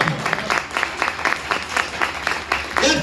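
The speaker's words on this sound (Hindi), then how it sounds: "इनके लिए जबरदस्त क्लैपिंग करता हूं" Audience applause at an MLM network-marketing seminar for Microd Digital, a steady burst of many hands clapping at close range for about three seconds, with no talk over it.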